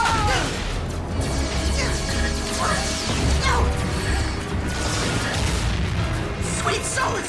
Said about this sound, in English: Who is shooting at us?